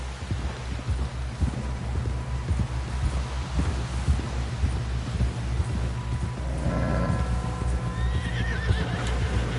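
A horse gallops with rapid clip-clop hoofbeats close by in a video game, then gives a loud whinny near the end, with no speech over it.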